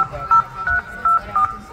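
Five evenly spaced keypad beeps sound as a telephone number is dialed by hand. Each tone is short and clear, heard over a faint background murmur at a live stage show.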